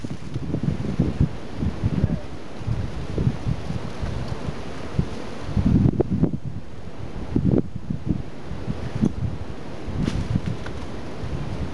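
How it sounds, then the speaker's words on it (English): Outdoor wind gusts buffet the microphone in low rumbling surges, swelling loudly around the middle and again later, with rustling between gusts. "it starts with a good gust of wind"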